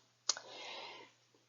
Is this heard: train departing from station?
no